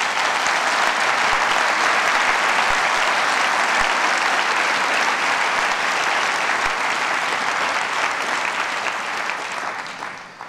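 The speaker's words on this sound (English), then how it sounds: "Can we applaud that one more time?" A conference audience at the Skoll World Forum opening plenary bursts into loud, sustained applause that holds steady for about ten seconds before tapering off at the end.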